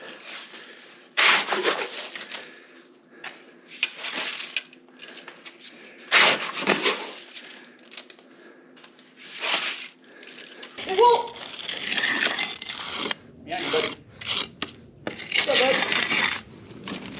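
Mixed concrete from about two and a half bags is dumped and worked into forms at a guest house renovation, heard as close bursts of heavy scraping, sliding and gritty thuds separated by brief pauses.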